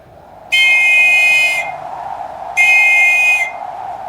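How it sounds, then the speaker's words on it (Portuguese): A ship's master sounds a whistle aboard a sailing fleet at sea, giving two loud, sustained shrill blasts of about a second each, separated by a short pause, over a steady low background. "o mestre toca o apito e avisa"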